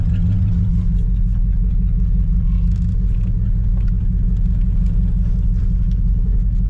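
A 1966 Pontiac Bonneville wagon engine, running for the first time in 20 years, idles with a steady low rumble that holds close and loud throughout, with no talk over it.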